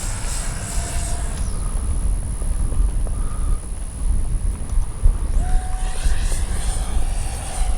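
An XFLY F-35 radio-controlled jet flies overhead, its electric ducted-fan motor giving a loud, steady rushing whine that rises and falls as it passes, with wind buffeting the microphone.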